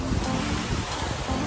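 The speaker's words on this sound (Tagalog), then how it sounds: "Ang lakas ng alon." Strong ocean waves at a beach on Siquijor, a steady broadband wash of surf with wind noise buffeting the microphone, continuous and moderately loud with no voices.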